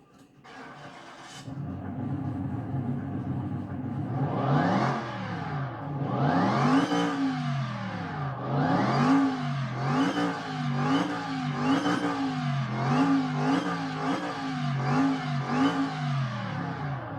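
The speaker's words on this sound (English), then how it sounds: "We're going to fire her up." A homemade dragster engine fires up after a short clatter, then idles and revs repeatedly in loud rising-and-falling bursts, close by and alone without talk.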